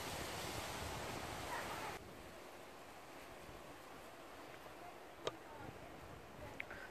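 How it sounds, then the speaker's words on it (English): Strong gusty outdoor wind of about 35 gusts roars across the microphone on a day too windy for beekeeping. The rumble is loud at first, then drops to a steadier lower blow with a couple of faint knocks. "bit windy today."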